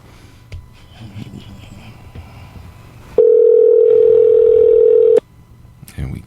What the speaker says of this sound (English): let's go ahead and make this phone call